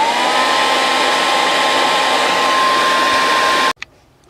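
A hair dryer blows steadily at close range over a fresh coat of Darkstar Molten Metals paint, a loud continuous whooshing roar that cuts off abruptly near the end, leaving a brief soft click.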